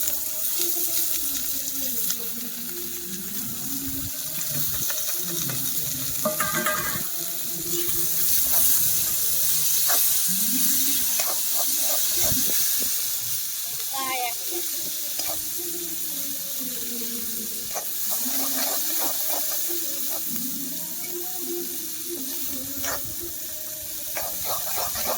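Onion and tomato hitting a hot pan for a Gujarati raw banana curry on a desi clay stove, a steady loud sizzle and hiss that continues throughout, close, with faint clatter mixed in.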